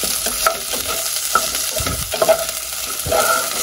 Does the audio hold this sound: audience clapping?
no